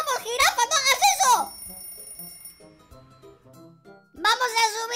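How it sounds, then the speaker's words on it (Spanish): An alarm clock rings in loud warbling bursts at the start and again at the end, with a quieter stretch of small clicks and knocks between them. "¡Está sonando el despertador!"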